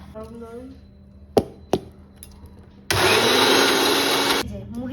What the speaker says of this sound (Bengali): মিক্সিতে নিয়ে নিচ্ছি মুড়িটা এবার পেস্ট করে দিচ্ছে মা